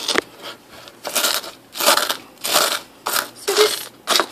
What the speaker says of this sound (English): And then I'll take my dirtier spoon and kind of crush it.